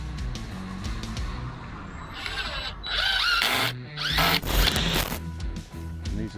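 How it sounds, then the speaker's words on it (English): A power drill whirs in several bursts, rising and falling in pitch, with clattering and scraping between runs, close and fairly loud, drilling a hole in the bottom of a porch post. "That's where we're going to drill down."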